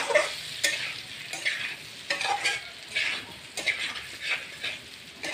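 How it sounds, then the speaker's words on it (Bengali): Potato and papaya pieces frying with ground spices in a pan over medium heat, stirred in repeated scraping strokes over a steady close sizzle. "এখন আমি আলু পেঁপেটাকে ছেড়ে দেব। এখন এটাকে ভালো করে কষাবো মশলার সাথে।"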